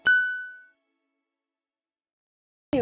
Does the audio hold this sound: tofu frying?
no